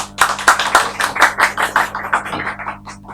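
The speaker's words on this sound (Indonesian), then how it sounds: "Tepuk tangan dong!" A short burst of hand clapping from a small group in a podcast studio, with distinct claps in quick rhythm that thin out toward the end, with no talk over them.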